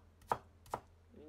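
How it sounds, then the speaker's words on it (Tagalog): Onion being sliced thinly with a knife, two crisp cutting strokes on a board about half a second apart, quiet and close. "Ang paghiwa maninipis ng maliliit."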